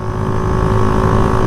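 A Shineray motorcycle engine running during break-in after an oil change, a loud, steady close-up drone with a rough, throbbing low end and no pauses.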